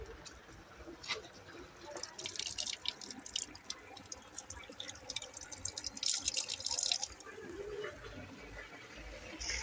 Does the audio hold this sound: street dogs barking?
no